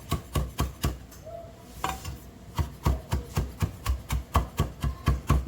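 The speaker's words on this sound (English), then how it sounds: "Alright, so we've got the leaves off, and we're just going to cut into really fine pieces." A kitchen knife finely chops fresh rosemary leaves on a board, making crisp, evenly spaced strokes. A brief pause breaks the rhythm before the quick, regular chopping resumes close by.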